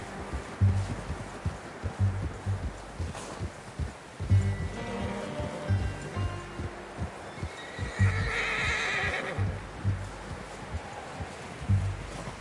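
A horse whinnies and neighs repeatedly up close, with rhythmic low thumps and hoof-like beats beneath and a louder, brighter neigh in the middle.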